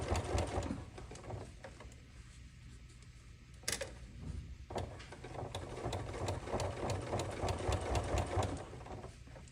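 A sewing machine stitches binding onto quilted cases with a steady, rapid, close mechanical rattle. A brief hitch comes partway through, then the run continues without talk.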